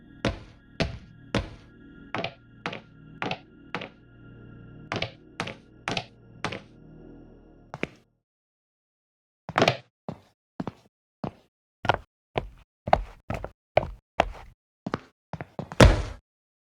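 Player jump and landing sounds for a Unity and Wwise horror game set in an abandoned asylum: a string of sharp, dry thuds and taps, first a steady series over resonant ringing, then a pause and a faster, cleaner burst of close impacts.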